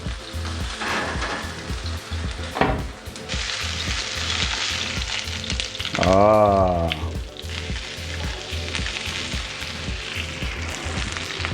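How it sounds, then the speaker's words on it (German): Meat searing in a hot frying pan gives a steady, crackling sizzle with occasional utensil knocks and a brief rising squeal midway. "Wir braten es jetzt von jeder Seite so 1 Minute 30 an."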